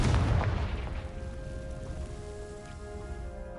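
A fire-spell explosion from the video game Hogwarts Legacy bursts with a dull boom at the start, then fades into a lingering rumble with a soft tonal hum.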